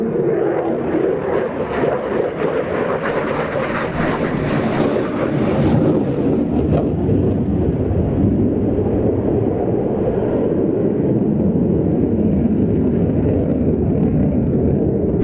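A Slovak Air Force fighter jet from the 1st Fighter Squadron at Malacky flies at the NATO Days 2025 airshow, its loud continuous roar rumbling steadily for the whole stretch with no voices.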